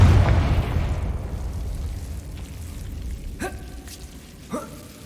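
Spell blast from the Confringo curse in the Hogwarts Legacy video game: a loud booming burst at the start that rumbles and decays, followed by two sharp crackling impacts later on.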